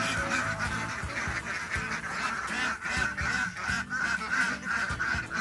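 A mixed flock of ducks, including native itik ducks, quacking continuously on a farm, many overlapping calls close by, with honking mixed in and no talking.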